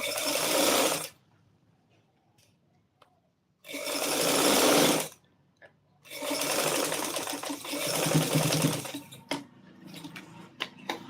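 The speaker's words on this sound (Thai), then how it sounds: "อ่าหลังจากที่เราเย็บนะคะ" A sewing machine stitches a shirt collar in loud, close bursts of rapid whirring and needle clatter, stopping and starting several times with quiet gaps between runs.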